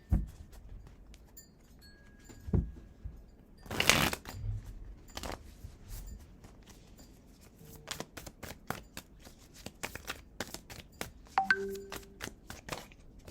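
Tarot cards shuffled by hand in a series of crisp riffles and papery slaps, close and fairly quiet, with no talking over them.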